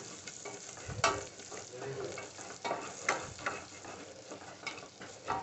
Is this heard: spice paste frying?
yes